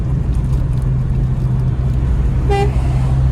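A single short car horn toot, brief and clear, over steady engine and road rumble from inside a moving, modified Tofaş Kartal.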